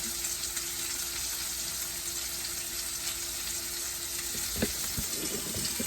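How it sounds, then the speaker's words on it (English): A ribeye steak sizzling in a pan: continuous, fairly close frying hiss that holds steady throughout, with a brief clatter near the end and no talking. "Look at that steak cooking."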